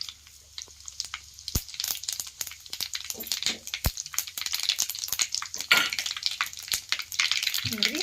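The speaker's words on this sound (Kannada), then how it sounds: "ನಾನೀಗ ಸಾಸ್ಮಿ ಹಾಕೊಳಕತ್ತೀನಿ ನೋಡ್ರಿ ಒಂದು ಸ್ವಲ್ಪ ಜೀರಿಗೆ" Mustard seeds and cumin sizzling in hot oil for a brinjal curry, with a steady crackle, scattered sharp pops and the clink of a spoon against the pan, close by and with no speech.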